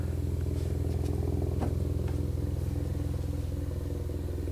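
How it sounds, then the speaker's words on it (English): A helicopter flies overhead at night, its rotor thrum a steady, moderately loud low drone that holds without change throughout, with a faint click or two on top. "That's a helicopter."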